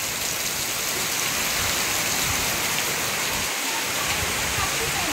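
Heavy rain pours down in a dense, continuous hiss, loud and unbroken throughout.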